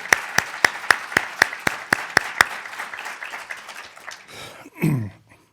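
A single pair of hands starts applause at a Spanish-language lecture with about ten crisp, evenly spaced claps. Scattered clapping follows, thins out and fades, and a brief low voice comes at the very end.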